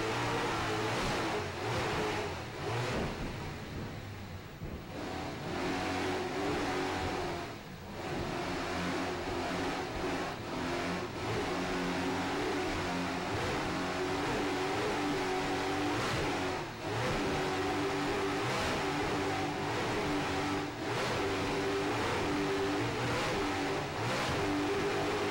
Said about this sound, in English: Hear those Mercury Supercat engines screaming along there, going heading north up the beach in St. Petersburg.